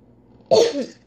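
A single sharp cough, close and loud, breaks a quiet background.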